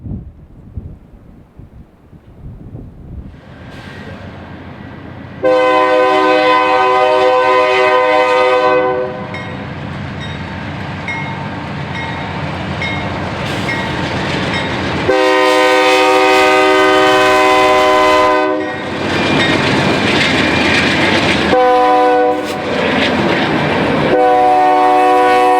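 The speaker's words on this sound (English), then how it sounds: "7865 is equipped with a Nathan K3HA air horn" A GE Dash 8 locomotive sounds its Nathan K3HA air horn in several long, loud, chord-like blasts close by, over the rumble and rail clatter of the passing train.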